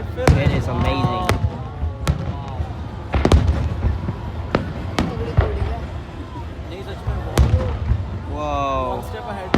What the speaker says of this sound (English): I have no idea how much fireworks they have on the thing, but it is amazing.